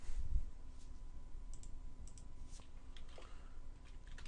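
Quiet typing on a computer keyboard while entering data into a Microsoft Excel spreadsheet, soft scattered key clicks at close range over faint room hiss.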